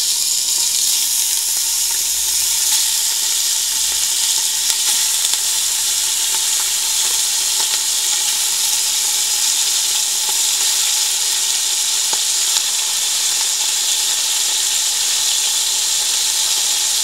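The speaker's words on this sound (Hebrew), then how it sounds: "יש לי כאן כקילו של רצועות עוף, חזה עוף. אני חתכתי אותו. אני פשוט מניחה בתוך השמן." Strips of chicken breast, about a kilo, fry in hot oil with a loud, steady sizzle that stays constant and close throughout, with no voices.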